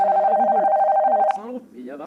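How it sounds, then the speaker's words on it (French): A telephone rings with a steady electronic tone that stops after about a second, while a voice talks over it and carries on afterward. "Son téléphone sonna."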